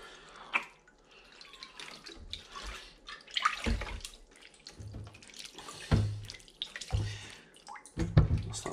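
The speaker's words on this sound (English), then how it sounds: "we'll just run this water down through the skin." Water from a tap runs and trickles through a natural sausage skin for black pudding, with irregular splashes, drips and gurgling bursts at close range.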